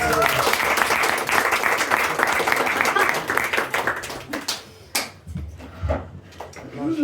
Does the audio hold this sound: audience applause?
yes